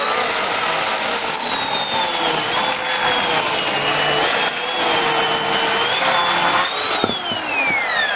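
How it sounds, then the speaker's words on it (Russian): A quiet-running saw cutting firewood, a steady high whine holding pitch with slight wavers, then a brief knock near the end as the blade rises. "чтобы слышно было, как работает пила, она тихо работает"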